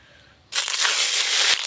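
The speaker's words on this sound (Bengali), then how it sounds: "ইলিশ মাছের মাথাটা ভেজে নেবো।" A hilsa fish head drops into hot oil and a loud, dense sizzle erupts abruptly, then carries on steadily as the head fries, with no talking.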